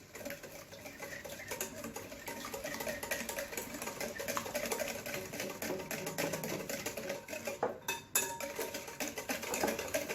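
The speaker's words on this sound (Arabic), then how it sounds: "دابا غادي نخلط كلشي بالضرب اليدوي." Basbousa batter ingredients beaten by hand in a bowl: a busy, continuous clatter of a utensil against the bowl, quick irregular taps and scrapes at close range, with no talking.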